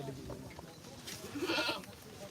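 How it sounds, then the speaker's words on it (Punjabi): Barbari goats at a crowded livestock market bleat in short, fairly close calls, one rising clearly near the end, while people talk in the background. "ਆਹ ਬਰਬਰੀ ਬੱਕਰੀਆਂ ਨੇ"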